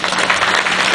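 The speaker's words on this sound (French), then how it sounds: "Mesdames, messieurs, Fabrice Didio, on l'applaudit" Dense, steady applause from an audience at a nighttime agricultural machinery show, loud and continuous throughout without a break.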